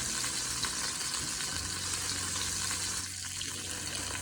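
Andouille sausages fry in a pan with a steady, dense sizzle that holds loud and even throughout, with faint clinks of the pan underneath and no talking.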